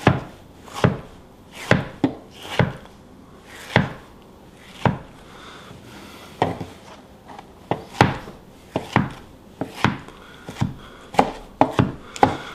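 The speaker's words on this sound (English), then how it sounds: "Another way when you're chopping is you can hold your knife like this." Sharp kitchen knife chopping vegetables on a cutting board during fish cooking prep, a steady series of crisp close knocks, some in quick pairs, with short pauses between strokes and no talking.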